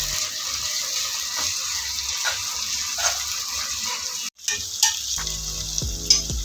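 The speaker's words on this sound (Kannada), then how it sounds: "ಶುಂಠಿ ಬೆಳ್ಳುಳ್ಳಿ ಪೇಸ್ಟನ್ನು ಆ್ಯಡ್ ಮಾಡ್ತಾ ಇದ್ದೀನಿ. ಈಗ ನೀಟಾಗಿ ಹಸಿ ವಾಸನೆ ಹೋಗುವವರೆಗೆ ಫ್ರೈ ಮಾಡ್ಕೊಳ್ಳೋಣ." Ginger garlic paste frying with onions in a pan for prawn biryani, a steady close sizzle with occasional stirring scrapes and brief clatters, no talk.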